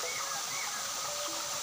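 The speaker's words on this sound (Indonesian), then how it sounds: "Punya air terjun yang tinggi begini" A tall waterfall, Cikutagana (Cikopeng) in Tambaksari, Ciamis, roars in a steady, dense, close wash of falling water, with no break throughout.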